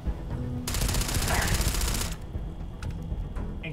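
Rapid automatic gunfire in the video game Starfield, a dense loud burst lasting over a second, followed by quieter scattered shots and game sounds.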